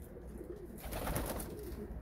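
Breeding pigeons cooing in a loft, soft continuous overlapping coos at moderate distance, a little louder midway, with no voices.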